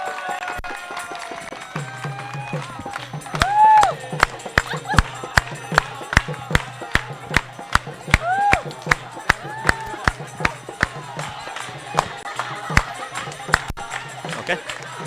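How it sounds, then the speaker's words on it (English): Guests at a wedding ceremony clap in loud, sharp bursts, steady claps ringing out one after another with a murmuring crowd and some speech underneath. "let's give them a big round of applause for Fera number 2"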